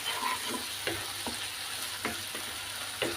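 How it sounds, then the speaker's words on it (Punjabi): Masala roasting in oil in a kadai, a steady close sizzle broken by a few scraping stirs at uneven intervals, with no voices. "1 ਮਿੰਟ ਅਸੀਂ ਮਸਾਲੇ ਨੂੰ ਹੋਰ ਭੁੰਨਾਂਗੇ"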